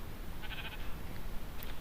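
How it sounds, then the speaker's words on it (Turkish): A short, faint Minecraft sheep bleat rises briefly over a steady background hiss, alone and without talk. "Gel buraya koyuncuk. Senden biraz yün alacağım."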